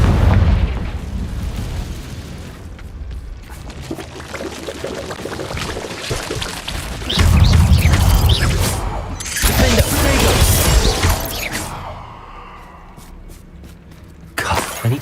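Fiery Confringo blast spell in the video game Hogwarts Legacy, erupting in loud booming bursts with rumbling debris over continuous game ambience and music, several heavy explosive surges across the stretch.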